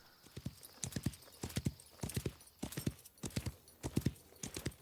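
Horse hooves clip-clopping in the Wild West Online video game: quick clusters of close, crisp hoofbeats repeat in a steady galloping rhythm, about nine groups in under five seconds, with nothing else heard.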